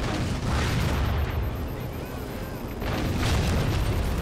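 Tank cannon fire and explosions in Halo 4 on legendary difficulty: heavy, continuous booming and rumbling battle noise with repeated blasts, filling the whole stretch.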